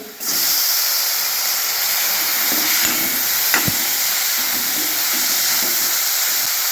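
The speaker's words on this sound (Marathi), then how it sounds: "कांदा आपला लालसर भाजलाय आता आपण त्याच्यामध्ये टोमॅटो घालून घेऊया" Tomatoes tipped into browned onions in a hot pan, a loud steady hiss and sizzle starting abruptly and holding throughout, with a couple of faint clinks and no voices.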